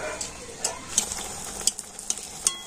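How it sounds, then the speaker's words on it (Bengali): Luchi puffed flatbread deep-frying in hot oil, giving a steady close sizzle with a few sharp clinks and taps of a utensil against the pan, and no talking. "আর এইভাবে সমস্ত লুচিগুলো আমি ভেজে নেব।"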